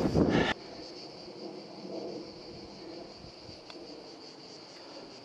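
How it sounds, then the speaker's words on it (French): Low, steady wind rushing across an open golf course, with a brief louder gust at the start settling into a faint continuous outdoor hiss. "Le vent, il s'est levé"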